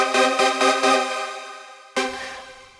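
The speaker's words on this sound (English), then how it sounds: "An open chord is a chord that is similar to this one, but we move single notes one octave up." Open synth chord for trance production, notes spread an octave up, played as a few quick repeated stabs and then held and fading, followed by one more bright, airy chord strike.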